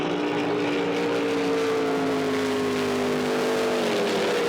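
A Noonan Hemi-powered drag boat engine runs at full throttle during a National Drivers Championship round at Windsor, giving a loud, sustained roar with a steady tone that drifts slightly lower, with no talk.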